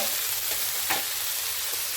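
Raw kachki fish going into a pan of sizzling sour curry with tomato and eggplant gives a steady, close frying hiss, with a brief brighter burst near the middle as the fish lands.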